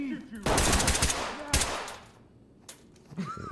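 Gunfire in the tactical shooter Ready or Not: two loud, close bursts of rapid shots, the first long and dense and the second shorter, followed by fainter room sound and a brief voice.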